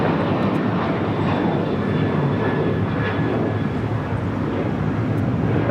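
A jet airliner departs LAX, its engine roar a loud, steady broadband rumble filling the whole clip with slight swells and no pause.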